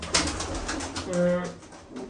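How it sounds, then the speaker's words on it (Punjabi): Domestic pigeons in a loft with eggs give a soft nearby coo, preceded by a few faint scuffs and clicks. "ਹੁਣ ਦਿਖਾਵਾਂ ਬਈ ਤੁਹਾਨੂੰ ਵੀ ਕੀ ਜਲੂਸ ਕੱਢਿਆ ਕਬੂਤਰਾਂ ਨੇ"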